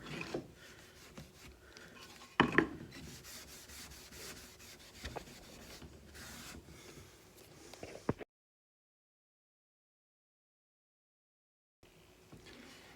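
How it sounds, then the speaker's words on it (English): Steel wool balled up and rubbed over the finish on a wooden float, giving a steady dry scratchy rubbing in even strokes along the grain, with one sharper scrape partway through and a silent gap before the rubbing resumes. "just get your steel wool like that, get it into a bit of a ball"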